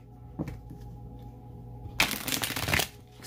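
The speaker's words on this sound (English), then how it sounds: "Let me shuffle this one more time, and I'm just going to split the deck." A deck of cards shuffled once in a quick riffling burst after a soft tap, close and crisp against quiet background hum.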